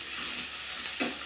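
Raw ginger and garlic lightly frying in a pan for biryani, a soft steady sizzle with a brief stirring scrape near the end, close and fairly quiet, no voices.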